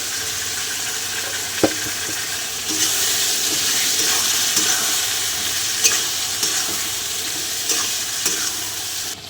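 Ginger, tomato and green chilli sizzle in a pan while being stirred for soybean ghugni. A continuous close frying hiss runs under periodic spatula scrapes and taps against the pan.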